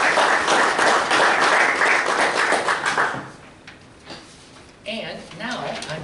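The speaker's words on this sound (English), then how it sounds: "So give yourself a round of applause for that." An audience at an evening community gathering gives a dense round of applause that dies away after about three seconds, then people start talking.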